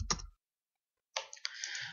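Working at a computer in KiCad circuit design software, a short mouse click, a pause, then a quick patter of keyboard typing, close and quiet with no voices.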